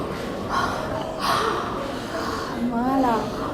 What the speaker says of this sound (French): À prendre des respirations baillées.